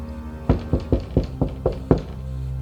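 Seven sharp, evenly spaced knocks on a wooden house door, loud and close, with no talking.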